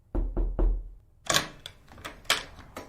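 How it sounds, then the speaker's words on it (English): Three quick, sharp knocks land on a door close by, followed by a looser series of clattering taps and thuds with no voices. "Bradley knocks on Mr. Salvatore's door."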